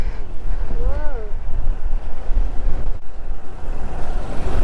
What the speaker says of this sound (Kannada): ತುಂಬ ಗಾಳಿ ಬರ್ತಾ ಉಂಟು.